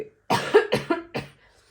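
Someone sick with a cold gives a burst of four loose, wet coughs in quick succession, close and fairly loud, followed by quiet.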